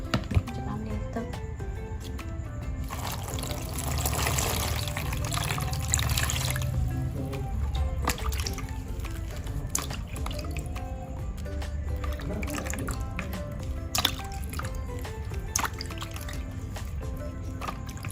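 Water splashes and drips steadily while fresh corn is rinsed for corn porridge, a close, continuous wet trickle with small squishy handling sounds and no talking.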